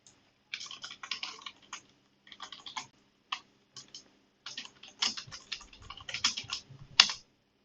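Bursts of fast clicking keystrokes on a computer keyboard while a URL is typed, close and clear, arriving in irregular runs separated by short pauses, with no talking.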